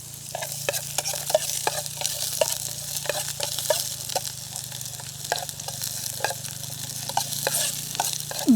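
Onion fries in oil in a pan, a steady sizzling hiss punctuated by frequent rhythmic clicks and scrapes of a utensil stirring, close and moderately loud throughout.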